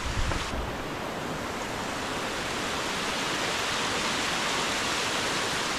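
Steady roar of rushing water from a waterfall at the Cascades du Hérisson, broad and continuous, loud and unbroken with some wind noise.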